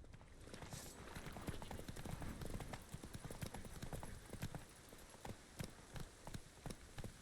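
Roach, a horse in The Witcher 3, gallops with steady rapid clip-clop hoofbeats close by, continuous through the stretch and becoming more distinct and spaced toward the end, over a wet, rainy-sounding backdrop.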